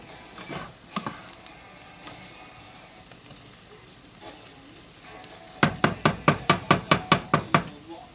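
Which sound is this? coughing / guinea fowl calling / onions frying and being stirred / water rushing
onions frying and being stirred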